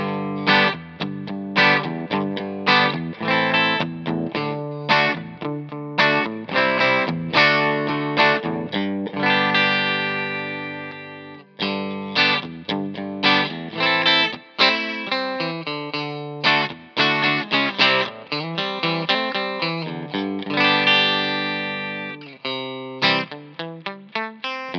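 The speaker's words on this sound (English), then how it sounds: "So the Jazzmaster straight into the amp sounds like this." A Fender American Professional II Jazzmaster electric guitar played clean straight into an amp, picked up by a dynamic microphone, sounds alone as a busy run of ringing notes and chords with bright, sustained tones.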